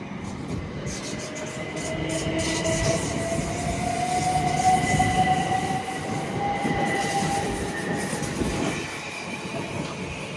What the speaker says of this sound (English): As 701-049 departs for Hampton Court.